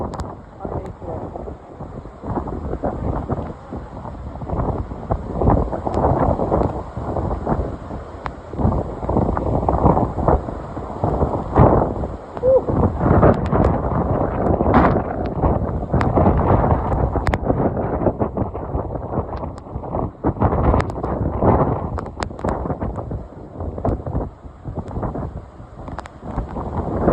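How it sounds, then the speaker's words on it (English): Strong derecho wind gusts with reported speeds up to 75 mph roar steadily and loudly across the microphone outdoors, a continuous buffeting rush with surging peaks and no clear pauses. "The consistency of the wind is high."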